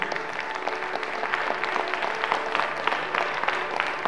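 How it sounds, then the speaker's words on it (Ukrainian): Audience at the Miss Independence beauty pageant in Ivano-Frankivsk applauds the contestants, a continuous, fairly loud patter of many hands clapping with a faint tone lingering underneath. "ваші оплески ще раз усім нашим учасницям!"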